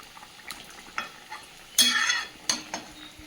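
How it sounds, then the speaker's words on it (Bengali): Thin fish curry broth with vegetables and potatoes in a pot, quiet sizzling and bubbling broken by a few short scraping stirs and a louder splashy stir, close and alone. "একটা ঝোল তরকারি হচ্ছে মাছ দিয়ে। একদম পাতলা ঝোল, জ্যান্ত মাছ দিয়ে।"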